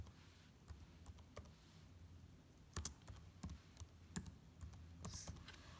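Keys clack on a computer keyboard as a search is typed, with irregular quiet clicks in short bursts against a faint room hiss.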